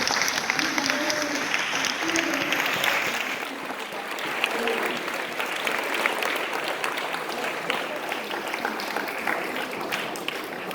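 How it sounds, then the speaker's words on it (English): An audience at a school competition's semi-final results applauds in a steady, sustained round of clapping, with a voice briefly audible near the start. "So can we have another round of applause?"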